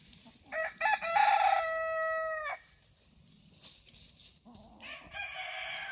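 A rooster crows near the start over a backyard flock of chickens, including young birds, followed by softer clucking and another crow-like call toward the end, all fairly faint and outdoors.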